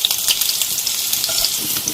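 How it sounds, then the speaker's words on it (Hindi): Maggi noodle pakoras frying in hot oil give off a steady, close sizzle with dense crackling pops, sounding alone throughout. "अच्छी तरह से फ्राई कर लेना है कि हमारी जो मैगी की बॉल्स हैं या पकौड़े हैं वो अच्छी तरह से दोनों तरफ से फ्राई हो जाएं"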